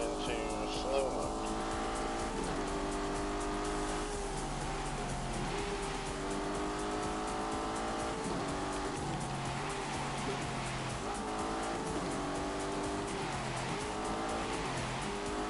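A car is driven on snow with its drive system set to snow mode. It gives a continuous engine roar with whining and squealing tones that rise and fall, and voices can be heard over the driving noise.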